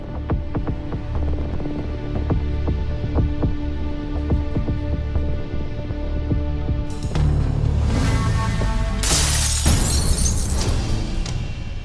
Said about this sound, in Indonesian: Siapa yang mecahin kaca jendela rumahku ya?